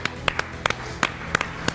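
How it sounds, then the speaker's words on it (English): A small crowd claps in sparse, uneven strokes, each clap crisp and separate, with faint background noise. "The crowd roars."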